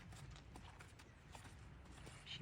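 A tense young horse's hooves clip-clop softly and steadily at a distance, faint and quiet with no talk.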